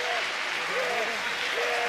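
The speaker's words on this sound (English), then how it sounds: "you can hear the reaction from the crowd" Arena crowd at a men's Olympic qualification curling match applauding a shot, a steady broad wash of clapping with a few brief raised voices rising through it.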